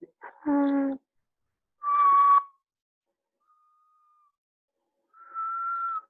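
A bushshrike gives three separate tonal calls with pauses between: a harmonic, slightly buzzy note, then a ringing whistle, then a steady drawn-out whistle, with a faint thin tone in between.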